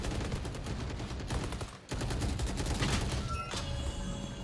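Rapid gunfire exchange in a Valorant match at a gaming expo, a dense run of repeated shots with a brief gap midway, sustained and fairly close in the game mix.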